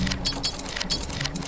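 Small metal key parts being handled in the video game Fobia - St. Dinfna Hotel: quick, repeated light jingling and clinking pulses, close and fairly steady over a low background hum.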